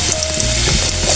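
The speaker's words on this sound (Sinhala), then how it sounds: "සුදිරිකලංගෙන් අයින් වෙන්න තෙල් හික්කවේ" Hot oil sizzles and crackles loudly in a pan while a curry of ash plantain is cooked, a dense, steady frying hiss close by.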